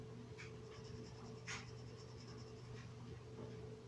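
A Cra-Z-Art permanent marker traces the letter C on paper, making faint, quiet scratches and soft strokes in a hushed room.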